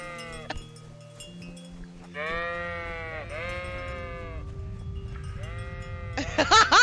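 Several sheep in the video game Kingdom Come: Deliverance bleat in short, wavering calls, one after another, over a low background rumble, ending with a louder, brighter bleat.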